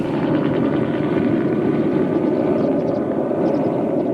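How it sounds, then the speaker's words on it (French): A helicopter sets down near a school bus accident site in a town centre, its loud, steady rotor and engine roar close and continuous throughout, with no talking. "on entend le bruit d'un hélicoptère qui va pour se poser à proximité"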